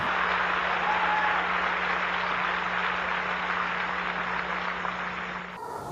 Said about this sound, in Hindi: मुझे नहीं पता आप तालियां क्यों बजा रहे हैं